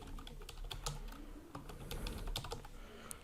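A private server name is typed on a computer keyboard in a quick, irregular run of close, soft key clicks.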